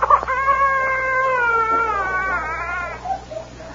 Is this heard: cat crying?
yes